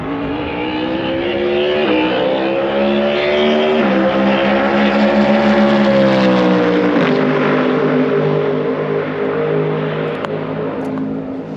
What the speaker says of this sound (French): Ça c'est ce qu'on appelle une vraie caisse de course.